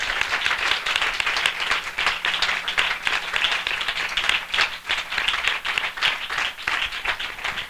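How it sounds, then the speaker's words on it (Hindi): A congregation at a spiritual gathering gives loud, dense applause to welcome listeners, a continuous roar of many hands clapping at close range throughout. "हम जोरदार तालियों से उनका स्वागत करें"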